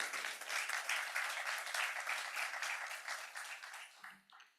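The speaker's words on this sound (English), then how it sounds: "Let's get a round of applause." Conference audience at a 2024 summit gives a round of applause, brisk clapping in pulsing waves that thins out and stops after about four seconds.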